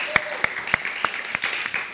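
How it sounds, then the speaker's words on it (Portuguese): Scattered hand claps ring out at an event, about eight crisp claps spaced roughly a third of a second apart, close and fairly sharp with light background noise. "Uma salva de palmas para o livro B."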